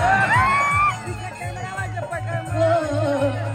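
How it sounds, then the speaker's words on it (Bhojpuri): Crowd noise at a Bhojpuri live stage show, a loud mass of cheers, whoops and shouting with a steady rhythmic beat underneath, and some raised voices over the din. "एक बार जोरदार ताली बजा दी।"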